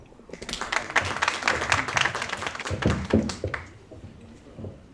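Audience applause at a book ceremony: a dense burst of clapping builds quickly, holds for about three seconds with some sharp near claps, then tapers off into quiet room sound.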